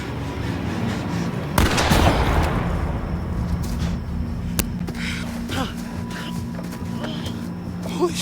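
A gunshot in The Quarry video game cracks out sharply about a second and a half in, followed by a lingering rumble and tail over a steady low background drone, with no talk.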